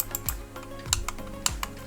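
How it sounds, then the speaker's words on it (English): A Logitech MX Master 2S wireless mouse gives sharp, close clicks from its scroll wheel, several distinct ticks spaced unevenly in quick succession with no talk. "I don't know if you could hear the clicking sound."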